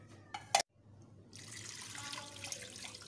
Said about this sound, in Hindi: इतना पानी डाला है मैंने